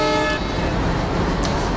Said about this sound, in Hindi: तो भाई फर्स्ट हॉर्न बजाते हैं